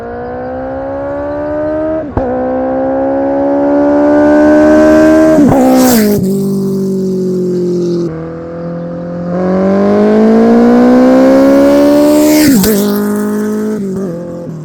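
BMW K1100 motorcycle engine fitted with a turbo, revved loudly and alone in two long sustained pulls with rising pitch, each ending in sharp pops or crackles as the throttle snaps shut.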